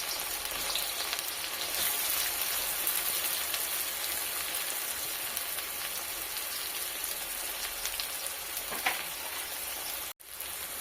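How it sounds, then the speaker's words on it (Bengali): Sliced onions fry in plenty of hot oil for biryani, a loud, steady close sizzle that continues unbroken without any talk. "তেল গরম হয়ে এসেছে, আমি এর মধ্যে কেটে রাখা পেঁয়াজটা দিয়ে দিচ্ছি।"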